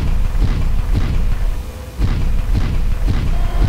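Heavy weapon fire and explosions in Mechwarrior 4: Mercenaries, a steady run of deep booms and thuds, loud and continuous, with a brief dip before the barrage resumes.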